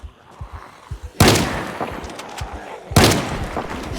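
Two heavy shotgun blasts ring out in the Project Zomboid video game, each a sharp, loud broadband boom with a decaying tail, separated by a couple of seconds over soft rhythmic thumps.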